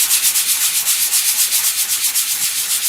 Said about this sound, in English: I'm using a piece of sandpaper here that is classed as 100, okay, so it's 100 grit